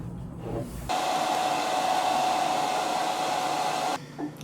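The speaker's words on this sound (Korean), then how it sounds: "막 이런 데는 드라이기 약할 법도 한데 세, 세, 세." A hair dryer blows steadily and loudly for about three seconds, switching on abruptly and cutting off, with faint background noise before and after.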